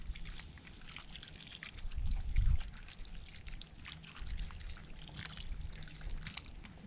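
Water is poured into a cooking pot over a campfire to make a dish with onion soup mix, a close, steady trickling pour that swells briefly partway through.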